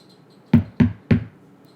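Three sharp, evenly spaced knocks on a door, loud and close, with quiet before and after and no voices.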